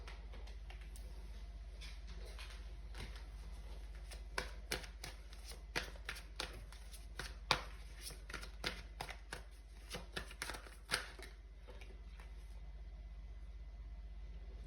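Tarot cards being shuffled by hand, a quick series of crisp riffling snaps and slaps that cluster in the middle, fairly close and quiet over a low steady hum, with no talking.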